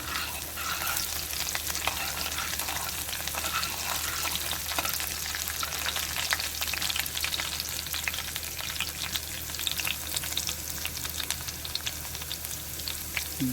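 Garlic frying in a pan in a home kitchen crackles with a dense, steady sizzle for over ten seconds, close and constant without talk.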